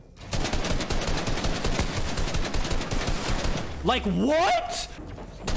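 Rapid automatic gunfire from a Fortnite match crackles on throughout, loud and dense, with a player talking and exclaiming over it partway through.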